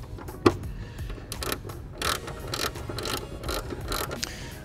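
A 4mm Allen bolt being snugged down on the intake lid of a 2018 Audi B9 S4, giving small metallic ratcheting and tool clicks in a quiet garage, with one sharp tap early on.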